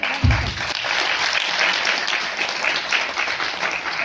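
Hearty audience clapping at an Ayurveda product event in a resort hall, a dense continuous burst of many hands, loud and close, with a brief low thump at the start.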